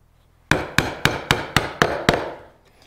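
A wooden mallet strikes a wood chisel seven times in a steady rhythm while chopping out a drawer joint, each blow a close, sharp knock fading quickly, with no talk.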